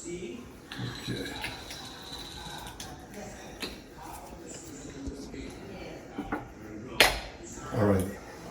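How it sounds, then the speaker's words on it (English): The cap of an olive oil bottle is worked open with soft creaks, clicks and plastic scraping. A louder crackling twist comes near the end, and a voice is faintly present under it. "if I can get the olive oil open"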